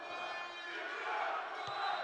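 Arena crowd noise from handball fans at the Olimp sports palace during a Kuban versus Brest Bretagne EHF Cup match, a steady dense roar of cheering that swells slightly toward the end with a faint thump of a bounce.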